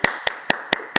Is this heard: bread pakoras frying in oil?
no